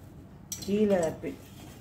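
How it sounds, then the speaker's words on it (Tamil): A spoon scrapes and scoops biryani up from the bottom of a metal pot, giving a short clinking scrape that rises briefly and then fades; a voice is faintly present. "கீழேருந்து தான் இப்படி பிரியாணி எடுக்கணும்."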